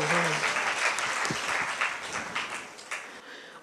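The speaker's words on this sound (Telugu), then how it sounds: "చప్పట్లు కొట్టి దేవుని స్తుతిద్దాం" A church congregation claps in praise of God during a sermon, making steady, sustained applause that sounds fairly distant and soft.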